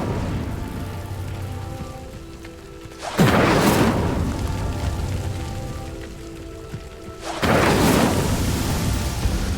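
The Incendio fire spell cast twice in Hogwarts Legacy, each a sudden loud whooshing burst that flares up and then roars on as a crackling fiery rush over a low hum, no speech.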